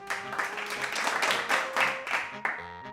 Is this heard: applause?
yes